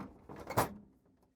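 A plastic ice bucket slides onto its guides inside a GE refrigerator freezer, a short scraping slide ending in a single soft clunk, fairly close and otherwise quiet.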